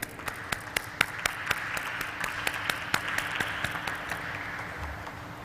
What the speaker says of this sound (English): A round of applause for this auspicious beginning.